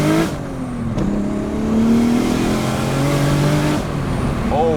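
A VW Corrado making about 320 to 330 wheel horsepower revs close by during heel-toe driving, its engine note climbing and dropping through several blips and shifts, loud and continuous with no talk.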